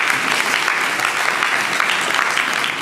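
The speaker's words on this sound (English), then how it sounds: "Can you give them a round of applause?" An audience at a school district academic commission meeting claps steadily for nearly three seconds, a dense and even round of applause with no speech over it.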